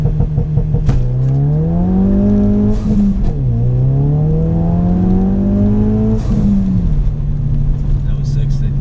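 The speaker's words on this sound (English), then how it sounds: "this will be my first time experiencing launch control in a Ford Focus RS" Ford Focus RS launching hard under launch control, its engine note climbing through rising revs with quick dips at gear changes, loud from inside the cabin as it pulls through several gears; no talk over the run.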